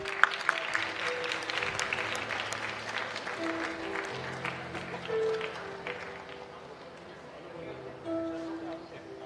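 Audience applause at a national palliative care workshop felicitation ceremony, a steady round of clapping filling the hall for about nine seconds, with a low tonal hum and some voices underneath.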